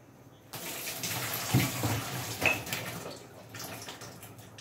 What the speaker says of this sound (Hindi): अब इसमें घोल दूंगी।